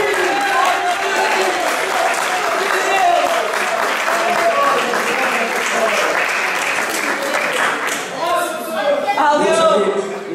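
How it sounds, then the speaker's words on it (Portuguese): A hall audience gives sustained applause at the closing of a Charola performance in Conceição, Faro, the clapping dense and steady throughout with crowd murmur mixed in. "Para ele, professor Jorge Alves, uma salva de palmas."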